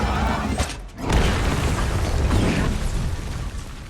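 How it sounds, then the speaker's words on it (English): A loud bomb explosion erupts in a crowded venue, a dense roaring blast with rumbling debris and creaking, sustained for several seconds with a short dip before the main burst. "Moments later, the explosion goes off."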